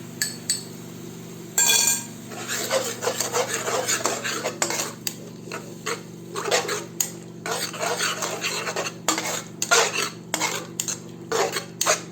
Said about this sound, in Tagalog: Dahan-dahan natin itong ilagay at halu-haluin para hindi mamuo.